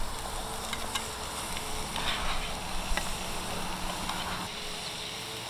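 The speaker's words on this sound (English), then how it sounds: "Listen to that sizzle." Butter sizzles steadily in a hot Dutch oven over a Swedish torch fire, a constant crackling hiss with a few louder pops, close up and with no voices.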